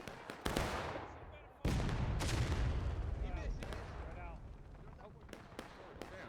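A muzzle-loading artillery cannon booms in the Civil War shooter War of Rights amid scattered musket cracks and distant battle noise, with a commentator talking over it.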